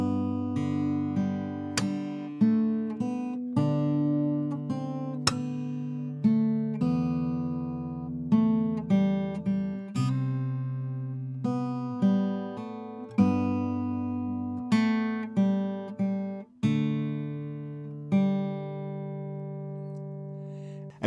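Acoustic guitar picking the riff from a song, clear plucked notes and ringing open strings played alone at a moderate, steady pace.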